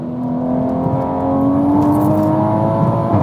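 A 700HP MK5 Toyota Supra accelerates hard at full throttle, its engine note climbing steadily in pitch, loud and close from inside the car with no talking.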